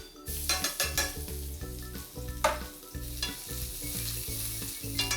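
Garlic sizzles and crackles in hot olive oil, with a pan being stirred and scraped throughout in busy, uneven bursts.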